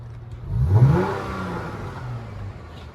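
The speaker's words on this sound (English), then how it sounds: "It's super quiet, so I don't think this rev is gonna do much" A Dodge Hellcat engine gives one short, fairly muted rev that rises and then falls back to a low idle whir, heard close up with no talking.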